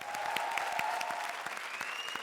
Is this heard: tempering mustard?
no